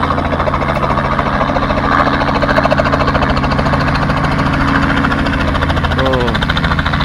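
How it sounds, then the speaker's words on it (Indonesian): A helicopter engine idles at a helipad in the Alsace mountains, giving a loud, steady throbbing drone with a rapid rotor pulse that holds evenly for the whole stretch. "Ada helikopter, guys. Ternyata ada landasan helikopter di sini."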